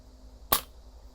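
A single sharp crack of a PCP air rifle firing, close and brief, with quiet background before and after.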